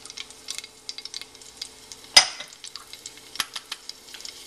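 Bay leaves and green chilies sizzling in hot oil for a mattar mushroom curry, a soft crackling sizzle with small pops and one sharp clatter of a utensil against the pan.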